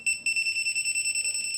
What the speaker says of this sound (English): The closer we bring it, the more often the LED flashes and the buzzer sounds.